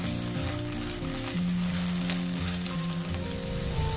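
Ginger, garlic and green chili paste sizzles and fries steadily in a hot pan for a cooking dish of cabbage samosa filling, a continuous close crackling hiss with no talk.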